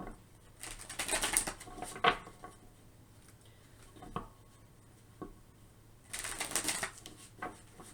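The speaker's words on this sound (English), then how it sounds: "go ahead and continue shuffling for pile 2" Tarot cards are shuffled in a few short riffling bursts separated by quiet pauses, with soft taps and clicks between bursts and no talk.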